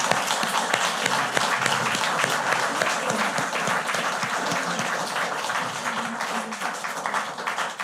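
An audience at a Polish-German science prize ceremony applauds continuously for several seconds, dense and even clapping that fills the room at a steady level.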